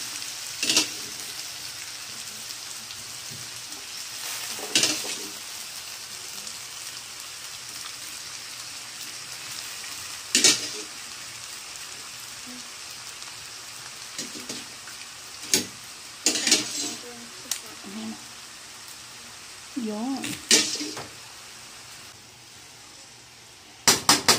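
Pasta being stirred and tossed in a hot pan, with steady sizzle and patter under intermittent clattering scrapes and knocks from the utensil, close by, with occasional louder bursts.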